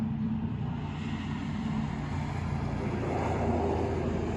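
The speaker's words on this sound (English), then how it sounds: "you can kind of hear it sputtering" Import race car engine at Las Vegas Motor Speedway, sputtering as the revs climb: a steady, dense roar with fluttering, uneven texture, continuous and fairly loud throughout, with wind noise over the microphone.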